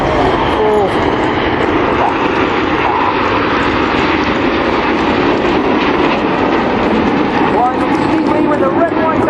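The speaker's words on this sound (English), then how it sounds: "And if you look to your right, you'll see a lone jet." A lone Red Arrows display jet roars continuously overhead at the 2014 Sunderland International Airshow, a loud, steady broadband engine rush, with a commentator talking over it through the public address.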